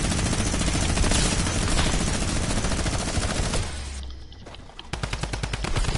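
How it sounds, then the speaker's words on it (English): A drum gun in a video game fires long rapid bursts of loud automatic gunfire, breaking off briefly before a fresh rattling stream of shots starts up. "that's a drum gun"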